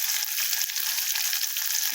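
Two garlic cloves frying in a pan alongside onion, a steady close sizzle of crackling hiss with small pops, continuous and loud with nobody speaking.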